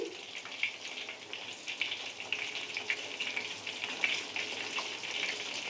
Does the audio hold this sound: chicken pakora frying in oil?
yes